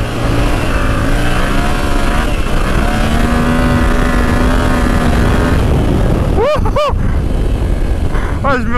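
Yamaha Tracer motorcycle on a road trip through Brittany, its engine droning and climbing in pitch under throttle, loud and steady with strong wind rush, while someone talks over it.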